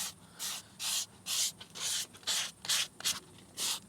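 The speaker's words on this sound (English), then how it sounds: "just gently sanding it down" Rhythmic sanding strokes on a leather steering wheel rasp back and forth, about ten short scratchy passes at a steady pace, fairly close and otherwise quiet.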